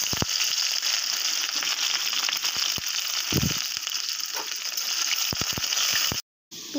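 Onions fry in hot oil in a wok, a loud, dense sizzle punctuated by crackling pops and clicks before cutting out abruptly near the end.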